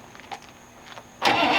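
A 1934 sedan delivery engine cranks and catches after a second of near quiet, jumping straight into a loud, steady running roar for the rest of the clip; no one talks over it.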